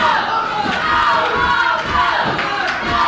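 A loud, dense wrestling arena crowd chants and screams steadily throughout, a continuous roar of many voices with rhythmic swells as fans cheer on a young wrestler from Pittsburgh.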